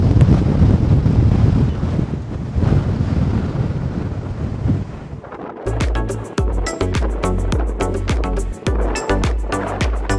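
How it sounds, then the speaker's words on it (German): Strong wind roars across the microphone at Boulder Beach penguin colony for about five seconds, a loud buffeting rumble, before giving way to a rhythmic series of hard rattling knocks. "Ui, der Wind, ja Wahnsinn."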